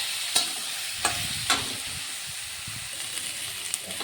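Jackfruit pieces frying in a pan with salt and turmeric for a Bengali prawn dish, a steady sizzle broken by a few sharp spatula clinks near the start.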